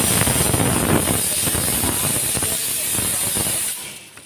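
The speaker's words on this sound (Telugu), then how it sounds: "మధ్యలో కలుపుతూ ఫ్రై చేసుకోవాలి" Spices for homemade masala podi dry-roast in a pan while being stirred, giving a continuous close hiss with scraping and rustling bursts that cuts off abruptly near the end.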